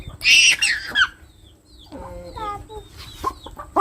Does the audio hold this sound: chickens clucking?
yes